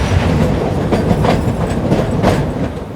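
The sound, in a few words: heritage meter gauge train climbing a ghat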